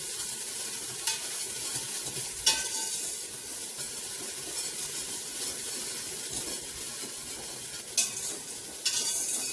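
Shallot sizzling in a pot on the stove, a continuous bright frying hiss with a few sharp stirring clicks and scrapes, close and without voices.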